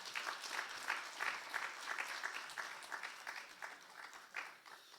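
A church congregation at a Friday evening worship service claps to welcome the associate pastor to the pulpit; the applause is moderately loud and uneven, with distinct clap bursts and swells that thin out toward the end.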